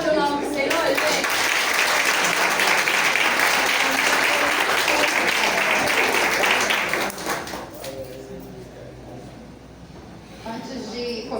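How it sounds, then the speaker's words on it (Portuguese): A church congregation at a Sunday praise and worship service applauds loudly and steadily for about seven seconds before the clapping fades into murmured voices. "Vamos aplaudir o nome do Senhor, gente?"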